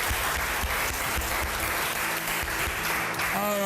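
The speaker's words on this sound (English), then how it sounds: "a round of applause for our beautiful housemates as well." An audience at a reality-show declamation contest gives a loud, sustained round of applause, with voices faintly under the clapping.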